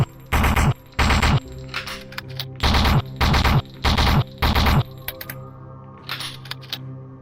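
Hip-fired weapon in VRChat lets off about six loud, separate bursts of rapid shots in a steady rhythm, followed by quieter scattered clicks.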